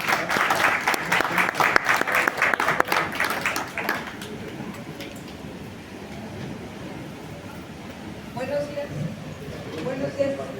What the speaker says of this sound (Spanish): Voy a agradecer a ustedes que me brinden un aplauso para recibirlo.